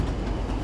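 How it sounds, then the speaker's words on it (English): A Class 40 diesel locomotive hauling a passenger train rolls past at a diesel railfest, a steady close rumble of engine and wheels filling the moment with no voices. "Is that a class 40 pulling a passenger train?"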